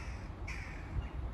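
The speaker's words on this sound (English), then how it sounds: "Sorry, there's a crow there." A crow gives a single hoarse caw outdoors, fairly close and clear but brief, over a low rumble of wind and distant background noise, with no talking during the call.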